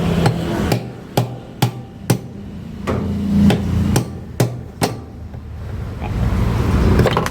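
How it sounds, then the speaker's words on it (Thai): A hammer drives a flat-blade screwdriver into a broken Phillips screw head, giving about a dozen sharp metallic taps in an uneven rhythm. The taps are loud and close, with a short pause before a final blow. "ก็จะใช้ไขควงปากเบนนะครับ เสียบเข้าไปตรง ตำแหน่งที่ผ่านะครับ แล้วก็ตอกครับ"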